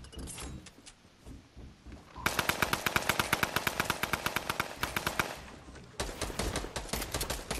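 Rapid bursts of automatic gunfire from enemies in a video game battle, loud and rhythmic volleys of sharp shots with brief pauses between bursts and no talking.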